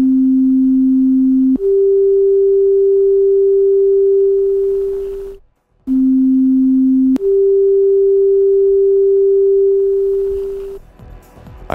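A synthesizer sine oscillator routed through a monophonic MUX sounds a steady pure tone that abruptly jumps to a higher pitch and cuts off, then repeats the same two-note pattern, clean and loud with no talking.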